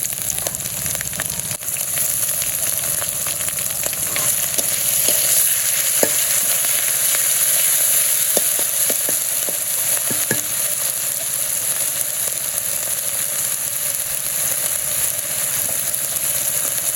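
Onions frying in a pan with ginger and garlic paste, a steady close sizzle and hiss running continuously with occasional stirring clicks, no talking.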